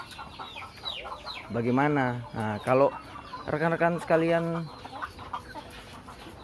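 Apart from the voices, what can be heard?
laying hens clucking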